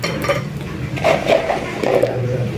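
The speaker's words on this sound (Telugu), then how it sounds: "ఇందులో ఏవైతే ఫ్రై చేసుకున్నామో గులాబ్ జామును మనం ఇందులో వేసేసుకుందాము" Fried gulab jamun dropped into a bowl of rabdi, a few soft clinks and dull knocks of utensils against the bowl, close and brief with no talking.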